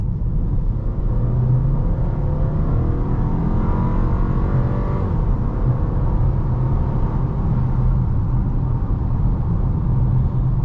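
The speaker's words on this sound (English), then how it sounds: "we're going to get up to about 25 and sort of mash the throttle and see what happens" A 2022 VW Passat Limited Edition with a 174-horsepower engine accelerates hard from about 25 mph, its engine note loud, steady and rising over a constant low road rumble, with no talking.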